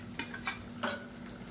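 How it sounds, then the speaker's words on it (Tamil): Soaked rice tipped into boiling water in a pot for hotel-style paneer biryani: a few brief scraping and clinking bursts over a quiet bubbling background, no talk. "இப்போ நம்ம ஊற வச்சுருக்கிற அரிசியை சேர்த்துக்கலாம்."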